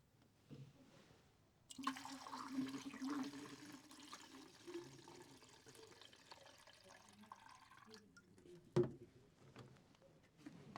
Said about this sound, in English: Now we're going to pour in the fix.